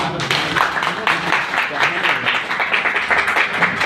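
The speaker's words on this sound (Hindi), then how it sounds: "तो सबसे पहले मैं इनका जोरदार तालियों के साथ में आप लोगों का स्वागत" Applause from a meeting audience of Bihar Nal Jal maintenance workers with an MLA, a burst of clapping that continues under someone speaking Hindi into a microphone.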